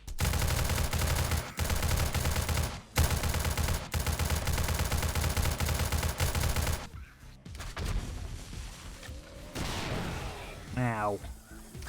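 Rapid, loud automatic gunfire from 7 Days To Die hammers in a near-continuous burst for several seconds with brief gaps, then stops, leaving quieter ambient game sounds.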